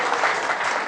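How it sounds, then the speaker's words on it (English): A short, steady burst of crowd applause at a tech happy hour campaign finale party, dense close clapping with no break. "give him a round of applause"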